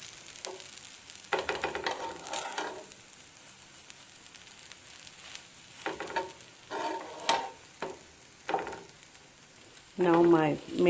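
A methi dosa made with fenugreek seeds and kasuri methi in the batter fries on a hot pan, giving soft intermittent sizzling and scraping bursts between quiet stretches, with a louder sizzle near the end.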